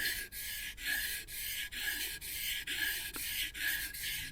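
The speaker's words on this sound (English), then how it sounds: "Now the finer the grit you go, the lighter you want to put pressure on the chisel, on the stone." Steel wood chisel pushed back and forth on a wet waterstone while sharpening, a steady rasping scrape in about nine even strokes, close and alone.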